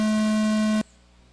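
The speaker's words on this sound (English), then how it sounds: "Clean laps on the sound of the tone" Race start tone at an off-road RC raceway, a single loud steady electronic beep held for under a second, then cutting off abruptly to quiet background.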